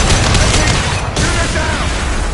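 Dense video game gunfire and booming blasts from a PS4 shooter, aimed at a loose fuel tank, roaring continuously and loud throughout with a brief dip midway.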